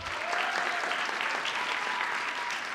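Audience clapping at a high school spring concert, a steady, dense wash of applause sustained at even loudness throughout, fairly close with no talking over it.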